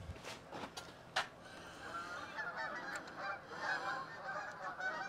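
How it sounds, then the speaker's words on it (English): A flock of geese flies overhead outdoors, honking steadily for the whole stretch as a layered, fairly distant chorus, with no talking. "I can hear a flock of geese flying over."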